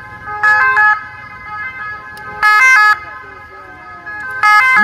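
Ambulance sirens blare in repeated two-tone bursts during an ambulance workers' protest blockade on the Champs-Élysées in Paris, loud and close with street rumble between the wails.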